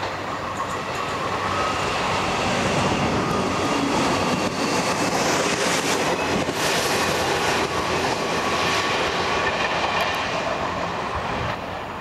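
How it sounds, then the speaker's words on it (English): A 1990s provincial diesel passenger train runs at speed through the Peak District, heard from inside as a steady loud rumble with rattling carriage noise and faint rhythmic wheel clatter throughout. "These modern provincial diesels were built for the 1990s and have a maximum speed of 90"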